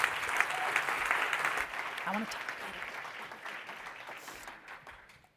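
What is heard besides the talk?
applause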